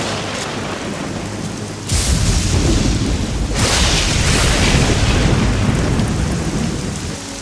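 A thunderstorm with heavy rain in a film: a constant hiss of downpour, then a loud thunder crash breaks in and rolls on in deep rumbles beneath the rain.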